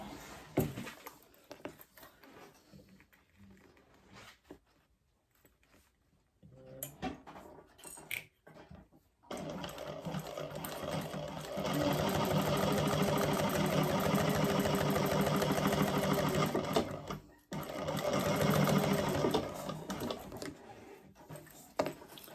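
A sewing machine basting fabric, quiet at first, then running with a steady whirring stitch for several seconds, pausing briefly and whirring again in a second shorter run.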